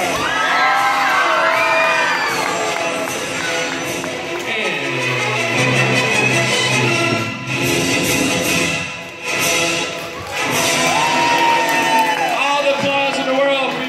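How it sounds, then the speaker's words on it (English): An audience at a live show screams and cheers loudly and continuously, with whoops and children's shrieks rising and falling over nearly fourteen seconds. "Big scream for her."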